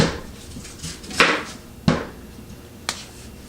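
Copper knife chopping an onion on a cutting board: three or four distinct, crisp knife taps with pauses between, close and fairly quiet, with no talk.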